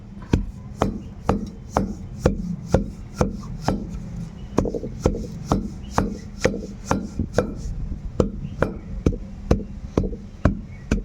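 Dried red chillies pounded into chilli powder in a stone mortar, a steady run of about two dozen sharp, evenly spaced thuds, close and clear with no talk.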